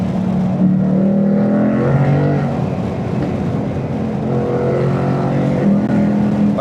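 A 500HP Ford Mustang GT engine drones steadily while driving on a morning run, a strong low exhaust note holding close and loud throughout, its pitch rising and easing with throttle changes.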